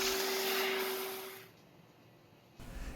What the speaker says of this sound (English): vacuum off all the steel particles left behind